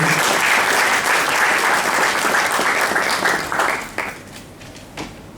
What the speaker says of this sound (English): Another round of applause for Professor.